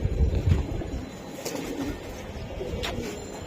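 Soft coos of racing high-flyer pigeons repeat steadily over a low, busy background hum, with a few faint higher chirps mixed in.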